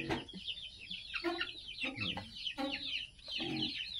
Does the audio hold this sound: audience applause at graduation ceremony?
no